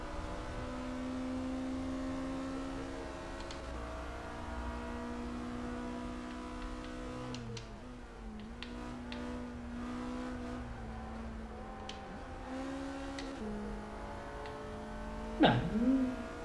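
In the Forza 5 racing game, muscle car engines drone steadily at high revs, shifting pitch through gear changes, with a sharp tire squeal and a louder burst near the end.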